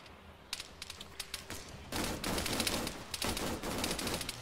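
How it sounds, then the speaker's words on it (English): Automatic machine gun fire in the military video game Arma 3, a burst of rapid shots at first followed by sustained, dense volleys of gunfire at mid distance, loud and continuous with no talking. "Machine gunners firing back, and they down him."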